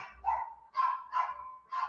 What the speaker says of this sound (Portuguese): Tem um cachorrinho aqui que toda vez que eu começo a fazer uma transmissão, parece que ele ouve minha voz e começa a latir.